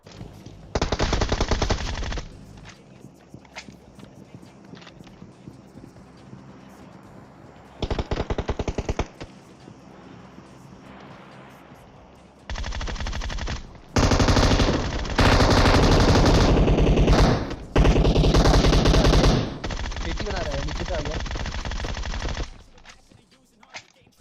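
Gunfire in a shooting video game: several loud bursts of rapid machine-gun fire and single shots, separated by quieter gaps, with a long sustained volley near the end.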